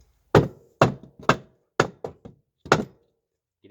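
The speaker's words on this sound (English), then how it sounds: "I'm gonna knock this back up there" Sharp wooden knocks as an attic hatch bracket is hammered back into position, about seven hard thunks in an uneven rhythm, close and loud, with short pauses between blows.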